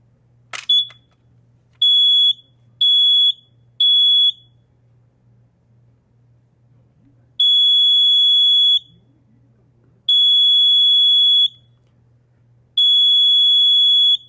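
An old First Alert SCO1 smoke alarm gives a click, then three short, piercing high beeps, a pause, and three longer beeps in a repeating pattern. The beeps are loud and close against a faint low hum.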